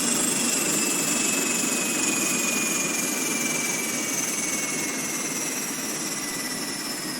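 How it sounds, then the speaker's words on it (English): Jet engines of a small business jet roar in an audio drama as the aircraft flies through thick asteroid dust and the engines begin to fail; a loud, steady whine with a sustained high tone, close and continuous, with no voices. "We're losing the engines!"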